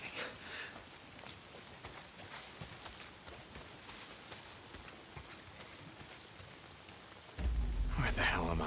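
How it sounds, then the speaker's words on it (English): Rain pattering steadily in the Days Gone game world, with scattered drop hits and a low rumble. It ends in a sudden louder burst of noise. "If it's not the freaks, it's the goddamn rain."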